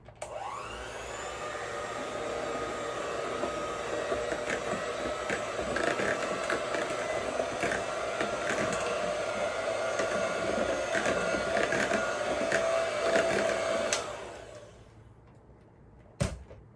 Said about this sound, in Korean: 준비된 버터밀크와 이제 버터를 넣고 가볍게 한 번더 믹싱을 해줄게요.